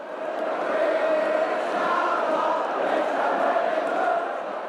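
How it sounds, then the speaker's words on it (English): Football crowd singing at a Derby County versus Arsenal match, a broad sustained roar of many voices chanting together, steady and loud with no pauses. "The crowd singing at a Derby County versus Arsenal game."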